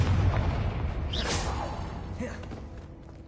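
The Confringo fire spell exploding in the Hogwarts Legacy video game: a quick whoosh rising into a single booming burst that decays over a few seconds.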